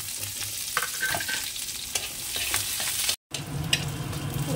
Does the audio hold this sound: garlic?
yes